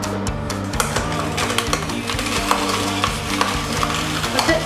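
An Oscar Neo horizontal cold press juicer grinds beetroot and carrots, giving a steady low motor hum broken by rhythmic crunching and clicking as the hard vegetables are crushed, fairly close and without talk.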